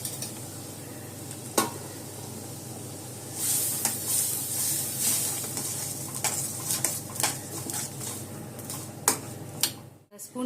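Tomato thokku bubbling and sizzling in a pan, a soft continuous fry with occasional spoon scrapes and stirring clinks against the pan, close and fairly quiet.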